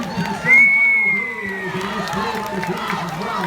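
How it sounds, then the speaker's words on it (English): Crowd at a girls' high school water polo semifinal played in the rain, with a sharp whistle-like shriek, shouting and cheering over a murmur and scattered voices close by. "And the crowd goes wild."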